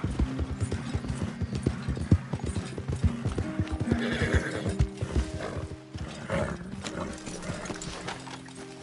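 A horse gallops in a PS4 video game, its rapid rhythmic hoofbeats clattering under game sounds, with a whinny mixed in and a steady, fairly loud, close presence.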